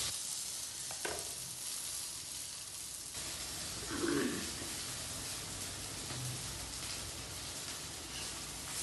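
Potato tikki patties fry in shallow oil, making an even, continuous hiss of sizzling close by, with a brief bump of handling partway through and no speech.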